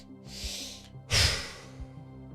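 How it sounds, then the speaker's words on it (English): One person breathes in with two quick sniffs through the nose, then lets out a long, audible exhale, close and soft with a low hum behind it. "it's a double sniff in followed by a long exhale"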